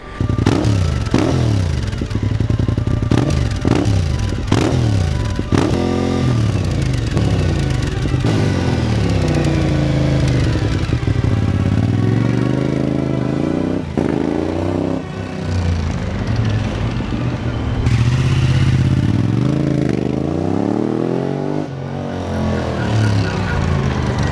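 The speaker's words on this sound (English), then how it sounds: "This weird fluttering or chattering noise that comes from the exhaust when decelerating." A loud Japanese motorcycle engine revs up and winds down repeatedly, its exhaust fluttering and chattering as it decelerates, sustained throughout with no talking.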